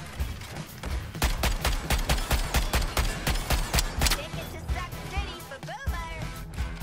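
Loud, rapid gunfire from a weapon in the video game Suicide Squad: Kill the Justice League, with evenly spaced sharp shots over about three seconds, then quieter game effects and a voice.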